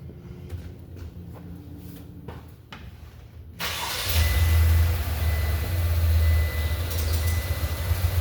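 A car in limp mode with reduced power cranks over after a few clicks, then catches and runs loud and uneven with a rough, lumpy idle.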